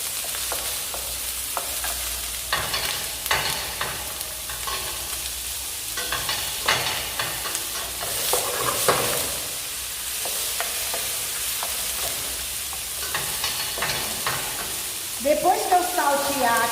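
Bell peppers sautéing in a pan for caponata, a continuous close sizzle broken by frequent stirring scrapes and clatters, with no talking over it.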